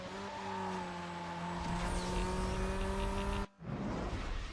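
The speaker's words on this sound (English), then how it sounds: "Thank you, acceleration of the Cobalt." A Chevrolet Cobalt with an engine upgrade accelerates in the racing game Need For Speed Most Wanted, a steady loud engine drone with rising tones and tire noise that cuts out briefly near the end before resuming.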